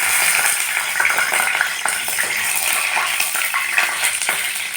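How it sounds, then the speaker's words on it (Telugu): Green chillies crackle and sizzle in hot oil for khichdi, a dense continuous frying hiss close by with scattered pops, nobody speaking. "పచ్చిమిర్చి వేస్తున్నాం"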